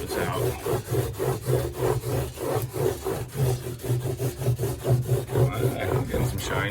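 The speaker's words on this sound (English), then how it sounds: "put the purple polishing compound on there, and" A piece of carpet loaded with purple polishing compound buffs aluminum diamond plate in quick, rhythmic back-and-forth rubbing strokes, close and fairly loud, a dozen or more scrubbing passes in a row.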